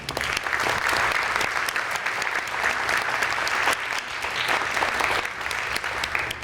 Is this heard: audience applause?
yes